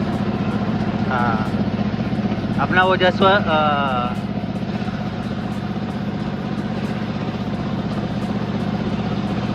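A stopped vehicle's engine idles in Jaisalmer, a steady low rumble running underneath the whole stretch while people talk briefly close by.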